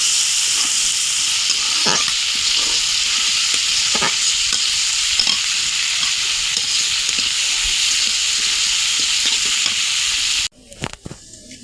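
Onion frying in oil with cinnamon, cardamom and cloves for a pangas fish dish, a loud, steady, close sizzle with scattered stirring clicks that cuts off abruptly near the end.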